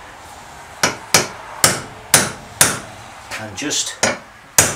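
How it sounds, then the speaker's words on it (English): A small chisel or punch is hammered into a motorcycle fork seal on a BM 250 trials bike: sharp metallic strikes land about every half second, close and distinct, with a short muffled scuffle between blows and a brief spoken phrase. "take a little chisel or a little punch"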